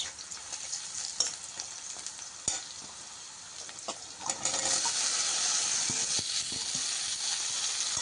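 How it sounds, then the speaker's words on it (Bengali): Chopped okra stir-fried in a hot pan makes a close, continuous sizzle with scattered spatula scrapes and clicks. The frying grows louder and denser partway through and then holds steady. "দেখতে পাচ্ছেন ঢেঁড়সটি দিয়ে সুন্দর করে নেড়ে চেড়ে মিশিয়ে নিতে হবে"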